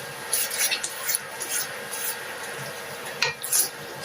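Vegetables are stirred into oxtail stew in a pot, with a series of soft scraping and clinking utensil strokes against the pot at close range, no voices.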